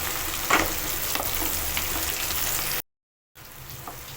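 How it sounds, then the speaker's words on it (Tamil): Ingredients for mutton chops sauté and sizzle steadily in a hot pan, with a continuous frying crackle and occasional stirring scrapes, close and fairly loud, broken briefly by a silent gap before the sizzling resumes. "நல்லா வதங்கிடுச்சு."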